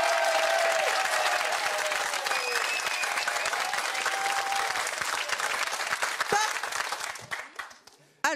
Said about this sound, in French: Et ensuite, vous allez applaudir notre ami Alex Ramirez.